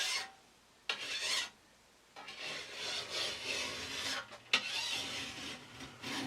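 A file rasps along the rails of a chainsaw bar to take burrs off the edges, in several close, scratchy strokes broken by short pauses, with no talking.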